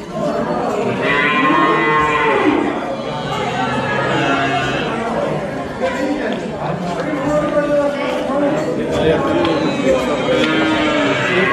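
Cattle moo repeatedly while licking water, long drawn-out lowing calls from several animals overlapping, under people talking nearby throughout.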